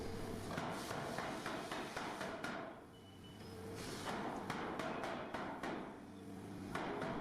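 A forging hammer strikes hot steel during free forging in a heavy industrial valve factory, giving a steady series of sharp metallic blows at a moderate distance with a brief pause midway.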